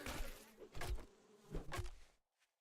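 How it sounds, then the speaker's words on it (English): Bees swarm and buzz in the survival game 7 Days To Die, coming in loud droning bursts that swell and fade several times before cutting to near silence. "bees are getting after me"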